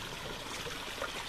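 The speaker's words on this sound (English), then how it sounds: "You can hear the water trickling down there." Stream water trickling down rocks beneath laurel in an autumn forest at Minnewaska State Park, New York, a steady soft rush of flowing water heard up close with no voices.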